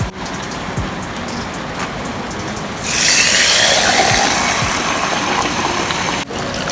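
Steady rain begins partway through, a dense hiss of heavy rainfall that swells and stays loud, over a faint low background rumble.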